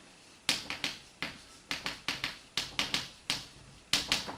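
A trigonometric identity being written out, a run of quick sharp taps in irregular bursts, close and fairly quiet with no talk.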